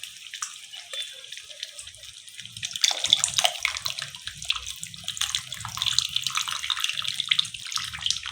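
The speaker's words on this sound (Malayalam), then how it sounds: "പുളി പിഴിഞ്ഞ് ഇതിലോട്ട് ചേർത്ത് കൊടുക്കാം" Tamarind water is squeezed by hand into Kerala inji curry made with roasted coconut, a close, continuous run of trickling and dripping liquid that grows slightly fuller partway through, with no talking.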